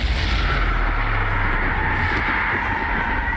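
Bombarda explosion spell in Hogwarts Legacy: a loud, continuous blast roar with deep rumbling low end, sustained dense and steady throughout, with no voice over it.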